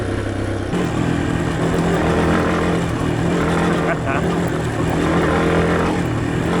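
An XT250 motorcycle ridden fast along a dirt trail. Its steady engine drone sits close, masked by heavy wind rush, with a voice speaking briefly over it.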